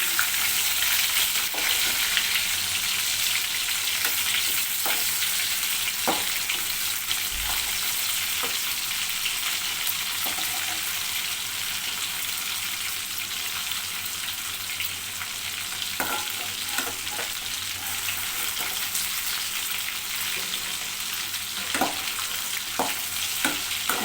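Chicken 65 pieces frying in hot oil, a steady dense sizzle filling the whole stretch with occasional louder crackles and stirring taps, close and continuous with no talk.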